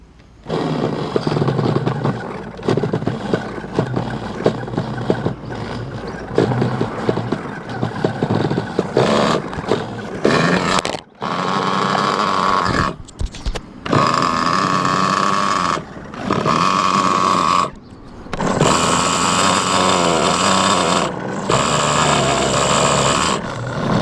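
A small, high-revving nitro engine in a Hobao Hyper ST RC truggy sputters and buzzes loudly in bursts, cutting out and restarting several times with brief silent gaps.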